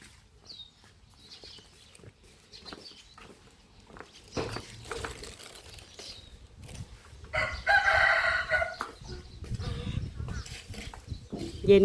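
A rooster crows among chickens on a rural home farm in the morning, the crowing mid-distance among scattered clucks, rustling and other farmyard noise.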